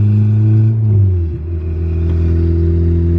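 Turbocharged Honda B16 engine with VTEC revving hard up close, a loud steady roar that dips briefly as the throttle blips, then climbs and holds at high revs, running hot.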